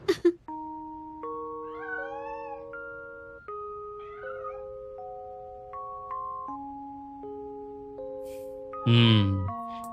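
A cat meows a couple of short, rising cries over soft, sustained piano-like music, with a brief louder burst near the end.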